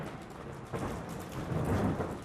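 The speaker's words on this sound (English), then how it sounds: "Tonight, there is a terrible storm, and it is raining." Thunder rumbling through steady heavy rain during a terrible nighttime storm, a continuous wash of rainfall with a deeper roll building louder toward the end, no voices.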